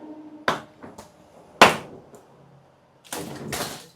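Wooden parts of a house are hammered and pried apart, with several sharp knocks and cracking thuds in an uneven rhythm, close and loud, separated by short pauses.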